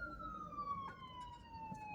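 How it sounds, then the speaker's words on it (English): An ambulance siren wails steadily as the vehicle passes, a clear tone sweeping slowly downward across the whole stretch, set against faint traffic rumble with no talk. "Just let this ambulance pass."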